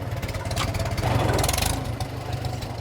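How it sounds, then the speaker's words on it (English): A 1953 Farmall Super M tractor engine runs steadily nearby with a low, pulsing mechanical chug, swelling slightly in the middle before settling back to an even rumble, with no talking. "This is a 1953 Super M farmall tractor."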